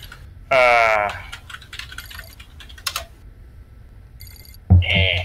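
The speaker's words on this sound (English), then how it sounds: "I wonder if I snooze this alarm, whether it will actually go back off in 5 minutes." A ringing alarm in the video game Subnautica Below Zero sounds in two short bright bursts, separated by a stretch of sparse tapping and clicking, with a faint repeated beep tone in between.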